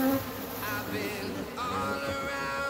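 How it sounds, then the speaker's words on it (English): Honey bees hum steadily inside a small hive, a close, continuous buzzing drone with slight shifts in pitch. "There isn't much bees in this hive."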